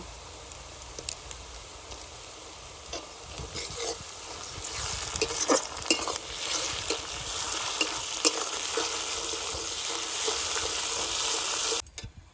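Onions fry in a pan as ginger-garlic paste goes in, with a continuous close sizzle and occasional scraping stirs and no talking.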